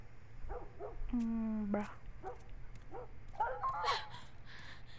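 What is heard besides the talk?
dog barking and whimpering, from the video game The Last of Us Part 1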